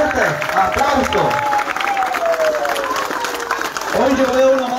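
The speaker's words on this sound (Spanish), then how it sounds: "¡Fuerte aplauso!" Audience applause at a live concert at Patio Sapukai in Roque Saenz Peña, with steady clapping and some cheering running beneath a voice speaking over sustained tones.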